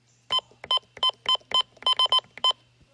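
Button beeps from a Sima First Alert WX-268 weather radio, a run of about ten short, high-pitched electronic beeps in an uneven rhythm, some close together, heard loud and close over a faint steady hum.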